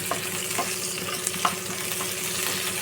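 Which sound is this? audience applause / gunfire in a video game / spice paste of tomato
spice paste of tomato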